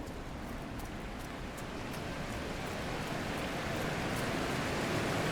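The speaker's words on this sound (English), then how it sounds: "There's a big waterfall right there." Waterfall in the fantasy video game Dragon Age: Inquisition, a steady, loud broadband rush of falling water that holds constant and swells slightly toward the end, with no voices over it.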